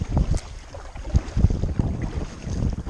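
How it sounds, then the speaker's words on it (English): Wind buffets a small boat heading up a creek against the wind, a steady rough rumble with gusty thumps on the microphone and faint water movement beneath. "We're going up creek against the wind."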